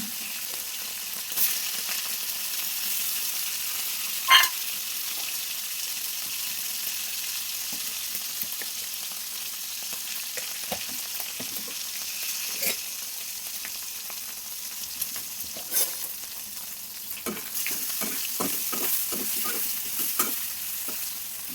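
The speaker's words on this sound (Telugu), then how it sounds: "ఇలా వేయించడం" Washed dried prawns fry in hot oil in a pan, giving a steady soft sizzle under repeated scraping and clinking as a spatula stirs them, fairly close and without talk.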